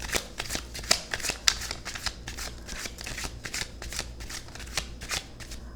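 Thoth tarot cards being shuffled by hand, a continuous close riffle of rapid papery flicks and slaps with a few sharper snaps, without talk.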